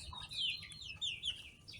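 Young free-range village chickens, mixed chicks about three months old, clucking and chirping in a fairly open coop, with a few short high calls overlapping at close range over a low background rumble.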